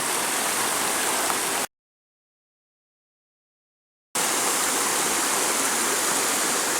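Stream water runs steadily while a container is filled, a dense hissing rush that drops into abrupt silence for a couple of seconds, then returns just as loud.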